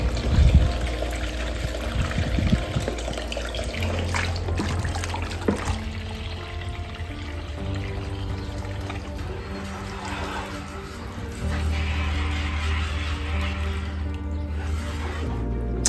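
Water runs steadily through a gold concentrator into a bucket while fine, pre-ground ore concentrates are processed, making a continuous close trickle and pour with faint clattering.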